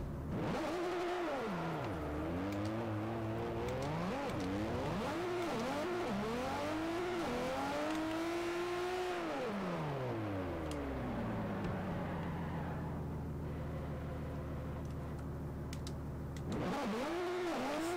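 A Nissan S15 drift car engine in the Forza Motorsport 4 video game revs up and down repeatedly in rising and falling sweeps, then settles into a steady drone before revving again near the end, loud and alone.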